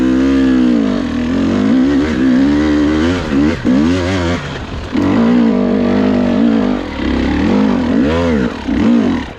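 Supermoto motorcycle engine revving hard on a steep slope, loud and close, with repeated rising and falling throttle bursts and brief dips between them; a voice is faintly present.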